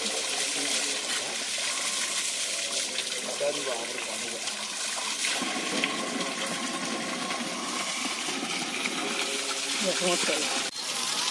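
A waterfall at Lugu Buru Ghanta Bari in Bokharu, Jharkhand gushes in a loud, continuous roar that fills the whole stretch, with people talking faintly over it.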